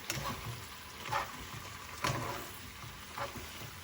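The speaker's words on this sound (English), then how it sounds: "So you need to pour some heavy cream and mix them together." Heavy cream being stirred into bolognese sauce in a hot pan gives a low steady sizzle, with a few scraping stirs standing out at intervals about a second apart, fairly quiet and without talk.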